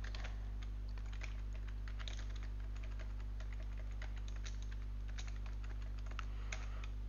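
Quiet, quick keystrokes tap out a short message on a computer keyboard, an irregular patter of clicks over a low steady hum.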